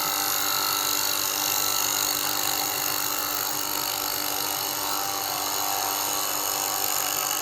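A router with a regular bit cuts the edge of a wooden cabinet at about 2,500 RPM, making a steady loud whine with sustained tonal hum that barely changes over several seconds.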